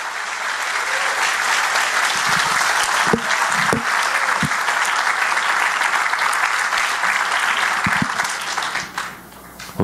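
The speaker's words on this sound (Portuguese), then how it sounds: "Vamos dar um aplauso para o Senhor nosso Deus," A church congregation applauds in praise to God, a dense, loud wash of hand clapping that fills the room steadily for nearly ten seconds before thinning out at the end.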